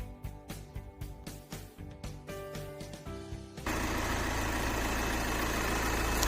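A 2015 Volkswagen Passat 2.0 TDI diesel engine idles with a steady, rhythmic clatter, then a louder, denser rumble takes over and holds steady; close by, no voices.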